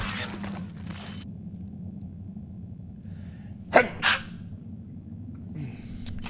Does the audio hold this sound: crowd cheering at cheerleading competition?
no